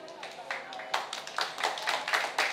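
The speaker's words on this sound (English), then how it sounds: "Give him a big round of applause." Audience applause at a stage speaking event in the Eslite Spectrum space at The Starhill Gallery: scattered, uneven hand claps that swell into denser bursts, with voices mixed in underneath.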